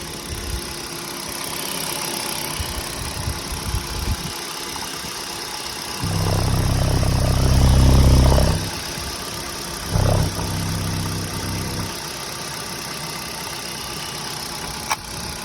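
A Hyundai i30 or Kia Ceed car engine runs steadily at idle with no knocking, a low mechanical drone that swells louder for a couple of seconds, then again briefly before settling back.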